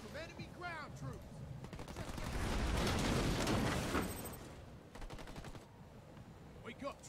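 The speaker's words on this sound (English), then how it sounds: "Marines under fire from enemy ground troops" Gunfire rakes a squad of marines in the strategy game Halo Wars 2, bursts of rapid shots building into a loud sustained barrage mid-clip before easing back, with voice chatter from the units in the background.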